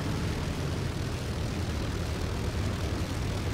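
Propeller aircraft engine droning steadily while an aircraft taxis in the flight combat game Il-2 Cliffs of Dover, a continuous loud broadband roar with no talk over it.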